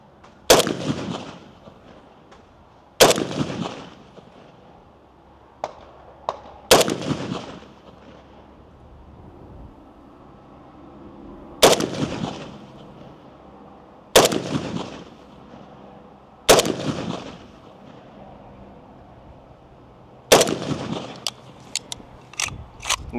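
A PSA Krink rifle fires steel-case ammunition outdoors in single loud cracks, about seven shots spaced a few seconds apart, each followed by a short echoing decay.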